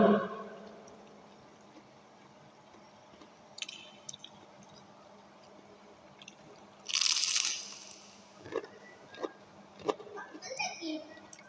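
Crunchy bites into a fried durian spring roll with a thick lumpia wrapper, a loud crisp burst followed by several quieter chewing crunches and squishes, close to the mic, with brief talk early on.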